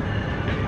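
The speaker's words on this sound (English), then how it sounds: "our train is here" A train arrives at a station, with a dense, steady rumble of rolling wheels and carriage noise filling the space.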